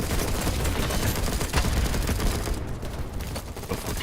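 Dense, continuous gunfire from the video game BattleBit, with overlapping shots and bursts blending into a loud, steady barrage that barely lets up throughout.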